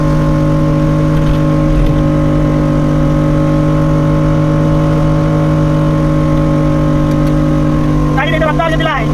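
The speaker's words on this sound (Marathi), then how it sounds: "गाडी चालली आहे सुसाट।" A car engine on the road holds a loud, constant drone with a steady tonal hum throughout, and a brief chirping burst near the end.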